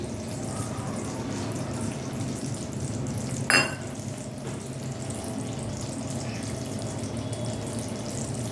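Black sesame chikki syrup is stirred in a pan, giving a steady low sizzling bubble with a soft scrape of the spoon and one sharp clink partway through.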